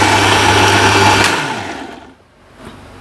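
A blender grinds fried onions into a coarse paste, a loud, steady whirring motor that spins down and stops partway through, followed by quiet clatter.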